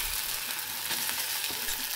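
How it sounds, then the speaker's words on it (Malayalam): Ginger frying in hot coconut oil, a dense continuous sizzle with occasional stirring scrapes, close and fairly loud with no voices. "ഇഞ്ചി വറുത്തെടുക്കുന്നത് വെളിച്ചെണ്ണയിലാണ്."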